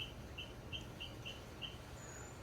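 Chickens call from a tropical garden with small repeated chirps or clucks, about six in a steady row, fairly faint and a little distant over a low outdoor background hiss.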